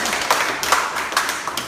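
An audience clapping together at a talk about local history, a short burst of close, sharp claps with uneven rhythm over a couple of seconds, heard alone.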